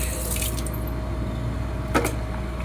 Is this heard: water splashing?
yes